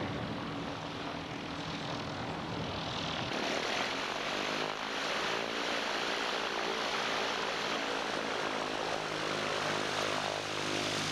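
A Scottish Aviation Bulldog propeller trainer aircraft drones steadily with a dense, continuous engine and airscrew roar that swells in intensity after a few seconds, loud and sustained with no voices.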